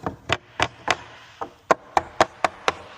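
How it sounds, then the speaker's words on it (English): A plastic hammer knocks against a motorcycle skid pan on a 2026 KTM 690 Enduro, ten sharp, close, hollow raps in a fairly steady rhythm with short pauses between, and no talk. "plastic hammer, knock it around a little bit,"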